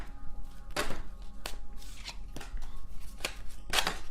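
Tarot cards are shuffled nearby in several crisp, separate riffles and snaps over a low steady hum, with no talk.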